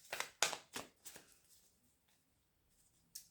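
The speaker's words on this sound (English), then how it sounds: "I shuffle 3 times" Tarot cards being shuffled by hand, a few quick crisp riffling bursts in close succession, then quieter soft rustles and one final brief flutter, heard close up in a quiet room.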